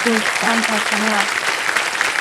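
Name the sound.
studio audience applause on KBC game show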